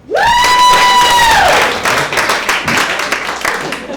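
A comedy show audience bursts into sustained applause and clapping, the sound starting loud under a ringing tonal sting and then thinning into scattered claps.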